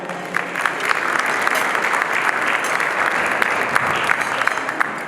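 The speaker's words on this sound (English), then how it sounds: "Just give them a round of applause for that." An audience at a heritage association gala claps steadily and loudly for several seconds, a dense continuous wash of hands with no voices over it.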